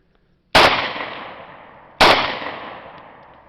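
Two loud, close gunshots with hollow point rounds fired at body armour, about a second and a half apart, each a sharp crack with a ringing decay, no talk.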